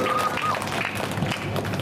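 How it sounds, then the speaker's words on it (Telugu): Audience clapping in congratulation at a gathering, a steady dense patter of many hands under a hum of crowd noise, without clear pauses. "గట్టిగా చప్పట్లు కొట్టి వారిని అభినందించవలసిందిగా కోరుతా ఉన్నారు"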